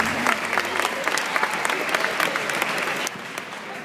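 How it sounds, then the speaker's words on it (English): At a school Q&A session an audience gives a loud, dense round of applause with sharp individual claps standing out, then thins and tapers toward the end. "let's give Lyle and Reba a round of applause"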